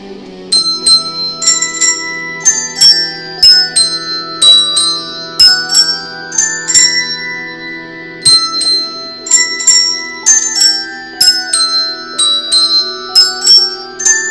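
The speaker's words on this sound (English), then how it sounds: "But we are doing a special rendition of Carol of the Bells. Hence the handbells, you know." Handbells ring out Carol of the Bells in a Christmas album recording, with loud, bright, sustained strikes in the familiar repeating rhythmic pattern, overlapping tones ringing on, played alone without talking.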